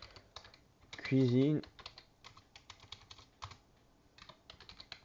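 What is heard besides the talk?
typing text on a computer keyboard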